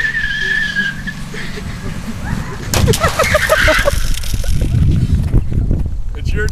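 Car tires skid with a drawn-out screech during a brake pad test, followed by clattering impact noise and rough scraping, loud and close.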